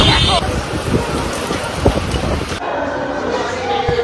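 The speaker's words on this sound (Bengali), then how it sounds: "প্রচুর বৃষ্টি হচ্ছিল" Heavy rain driven by strong wind at the seaside in Digha makes a loud, dense, continuous roar that shifts in character partway through, with voices faintly mixed in.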